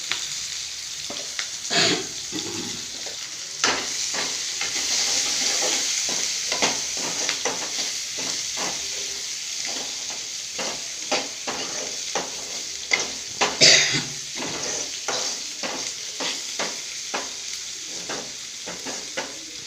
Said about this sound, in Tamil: அவ்வளோவும் வச்சுட்டு நல்லா இந்த எண்ணெயிலேயே வதக்கணும்